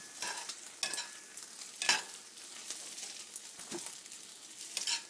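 Cheesy egg rice cooks in a pan: a faint, low sizzle runs beneath irregular spatula scrapes and taps, quiet and somewhat distant.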